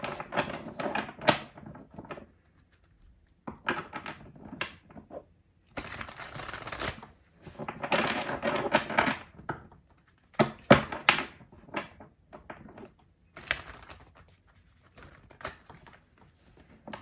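Tarot cards are shuffled by hand in repeated bursts of riffling and sliding, soft and close, separated by brief quiet pauses.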